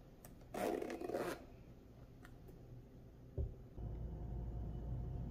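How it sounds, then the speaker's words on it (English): A Game Traveler Deluxe Nintendo Switch travel case is handled near the mic: a brief zipper rasp and fabric rubbing, then a bump and a low steady rustle. "Okay, now I'm going to gently unzip the case."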